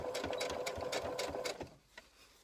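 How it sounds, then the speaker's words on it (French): A sewing machine runs close up as it stitches bias binding onto fabric, its rapid, even needle chatter steady for a moment before stopping abruptly. "Vous vous placez sous la machine. Et vous venez piquer à 1 mm du bord."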